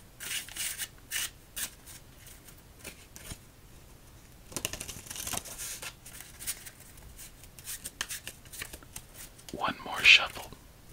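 Playing cards are shuffled up close in a quiet solitaire setting, giving soft repeated riffles, taps and rustles, with a brief louder flutter near the end and faint low voice.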